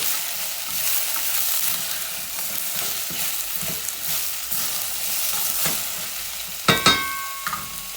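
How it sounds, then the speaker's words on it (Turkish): Beans sizzle steadily while frying in a hot pot, with occasional stirring scrapes and a couple of sharp metallic clinks near the end. "Son fasulyeyi kavurmaya başladı."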